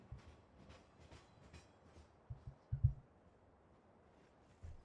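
A train rolls along railway tracks in the video game Farming Simulator 2015, a quiet steady rumble with soft low rhythmic thumps of wheels over rail joints and no talking.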